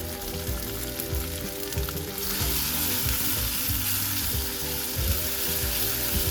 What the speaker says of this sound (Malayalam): ഇതെല്ലാം കൂടി നന്നായിട്ടൊന്ന് വഴറ്റിയെടുക്കണം